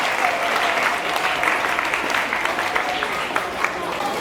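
A crowd applauds at an inter-school mental calculation contest in Côte d'Ivoire: dense, continuous clapping that stays fairly loud and even for about four seconds.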